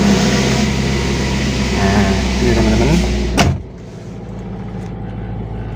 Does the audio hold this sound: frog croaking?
no